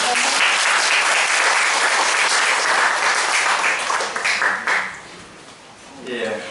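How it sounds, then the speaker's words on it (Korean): A church congregation claps together in a long, dense burst of applause that holds steady for several seconds, then thins and fades as a few voices rise near the end. "박수 한번 하겠습니다"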